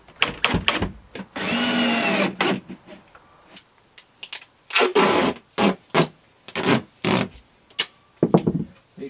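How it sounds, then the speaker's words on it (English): A power driver drives screws into boards while a composting toilet box is built, whirring in short repeated bursts with one longer run, loud and close. "let's put some screws in there and screw them in place."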